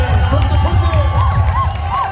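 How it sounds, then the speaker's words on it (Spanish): A concert audience cheers and shouts loudly in a continuous crowd swell, with voices mixed into the noise. "Los aplausos para ellos"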